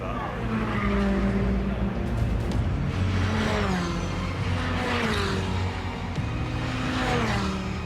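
Race cars tear through a corner during a race, engines rising and falling in pitch with repeated revving sweeps and a brief tyre squeal, loud and close throughout.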